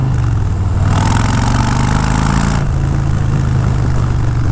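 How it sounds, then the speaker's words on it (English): A Harley-Davidson cruiser motorcycle engine fitted with a Vance & Hines Short Shots exhaust idles and revs, a loud, steady low rumble with a brief rise in throttle partway through, heard alone without talk. "this has a beautiful sound on this motorcycle here, but that is largely due in part to the upgraded exhaust system that I have on here"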